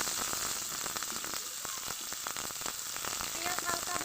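Chopped onion dropped into hot oil for a potato filling: a dense, continuous frying sizzle, near and steady, with a few stirring clicks and crackles over it.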